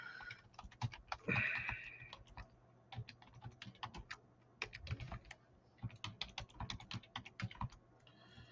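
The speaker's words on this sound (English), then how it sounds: "all I got to do is just start typing, like here" Keys clatter on a computer keyboard in quick, uneven bursts of close clicks and taps, steady typing with short pauses, quiet and alone.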